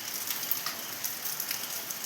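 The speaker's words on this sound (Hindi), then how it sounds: "सुबह से लगी हुई है बारिश।" Steady rain falls continuously at a rural home, a soft even hiss with faint scattered drop taps on surfaces, fairly quiet and with no voices.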